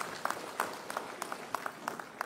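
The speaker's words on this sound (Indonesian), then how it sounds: "Tepuk tangan." A gathered audience at an Indonesian official ceremony gives a brief, sparse round of applause. The faint, scattered claps come in small bursts, sounding thin and distant.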